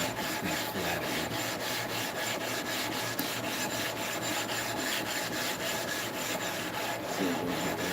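Steel chisel rubbed back and forth on a sharpening stone to flatten its back, a continuous gritty scraping with an even rhythm, close and alone.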